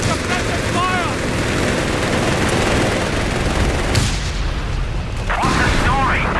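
Machine gun fire and explosions in a Company of Heroes 3 4v4 battle, dense continuous loud gunfire and booms filling the whole stretch, with brief whistling shell sounds and a short dip in the din.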